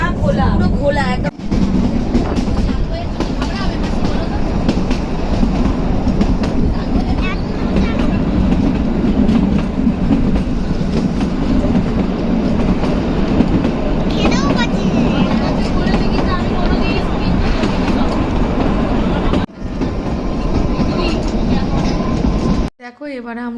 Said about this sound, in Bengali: দেখো এবারে আমরা একটা দীর্ঘ টানেলের ভিতরে প্রবেশ করেছি